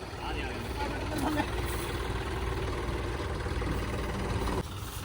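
A tractor fitted with a mulcher idles in a field at wheat sowing, a steady close mechanical drone that runs unbroken throughout, with indistinct voices faintly mixed in.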